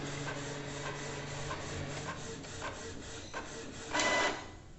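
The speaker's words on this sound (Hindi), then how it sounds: "तो जैसा आप देख सकते हो कलर प्रिंट आउट भी निकल रहा है" A Canon Pixma MG3070s all-in-one inkjet printer runs a colour print, its steady mechanical whir broken by rhythmic clicks of the print head, ending in a louder burst as the sheet feeds out.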